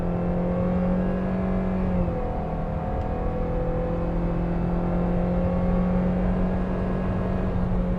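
Toyota Avanza 2021 pulling away from a standstill in first gear, a steady engine drone with a slight shift in pitch partway through, heard continuously and fairly evenly throughout.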